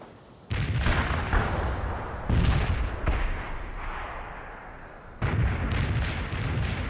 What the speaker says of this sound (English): Artillery strike on our target.